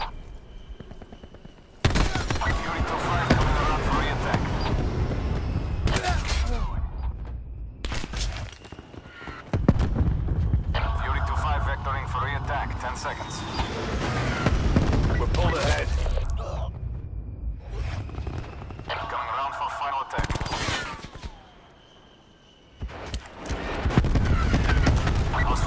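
An aircraft strafes the ground in Call of Duty, firing repeated heavy bursts of automatic fire and booms separated by short quiet gaps, with radio chatter speaking between and under the barrages.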